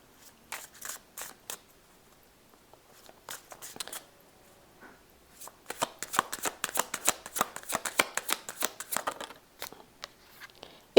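Playing cards for a tarot-style reading are shuffled by hand in close, crisp riffling bursts, sparse at first and then a dense run of quick flutters.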